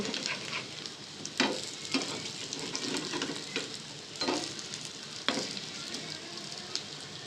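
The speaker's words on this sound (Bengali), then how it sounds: "এই যে চিংড়ির বড়া ভাজা শেষ।" Shrimp fritters fry in hot oil, a continuous moderate sizzle broken by several sharp spatula taps and scrapes as they are turned, with no talking.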